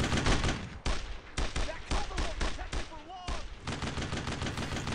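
Gunfire crackles in the Brothers in Arms video game, with dense bursts of rifle and machine-gun shots rattling close and loud, brief gaps between volleys, and faint shouting voices mixed in.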